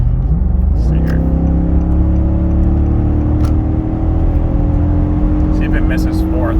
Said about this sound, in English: I have an issue sometimes when I'm accelerating really hard and there's a hill coming up.